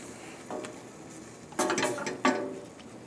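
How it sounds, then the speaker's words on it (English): Swiss chard cooked with mushrooms is moved from the pan into a serving dish: a soft scrape, then two sharper clattering scoops of utensil against cookware over low room hiss. "let us put it into the dish that we're going to be serving it in"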